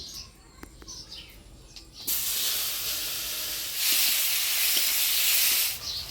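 Chopped onion dropped into hot oil with dried red chili, whole cumin and bay leaf bursts into a loud, steady sizzling hiss that swells and continues, with faint birdsong audible beforehand.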